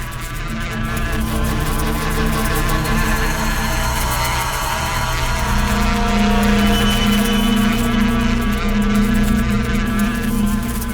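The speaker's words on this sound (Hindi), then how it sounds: "और मधुमक्खी के छत्ते को छेड़ना" A dense, steady buzz from a swarm of honeybees at their hive, loud and continuous throughout with no voices.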